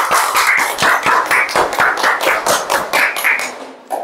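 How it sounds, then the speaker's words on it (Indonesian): A junior high class claps hands together in a brisk, steady rhythm in a classroom, the sharp claps loud and close and filling the whole moment with no talk over them. "Tepuk tangan."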